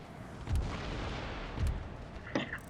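Demi cannon artillery fire in Empire: Total War, with three booming reports at spaced intervals over a continuous battle rumble, the last shot sharper and followed by a brief crackle.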